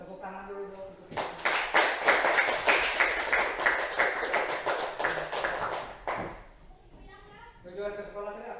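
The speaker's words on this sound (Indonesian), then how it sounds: "Tepuk tangan dulu dong untuk kita." Applause from a school class, a burst of many hands clapping that starts abruptly, holds steady for about five seconds and cuts off, with children's voices before and after.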